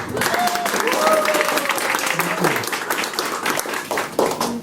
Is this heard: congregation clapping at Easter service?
yes